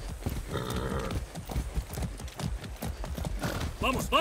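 Rhythmic clip-clop of horse hooves trotting steadily in Far Cry 6, with game effects and a short whinny near the end.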